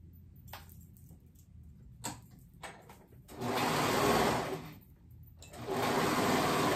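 A sewing machine stitches sleeves onto a top, starting with a few short taps and brief bursts, then two longer runs of steady whirring, close and fairly loud, with no one talking.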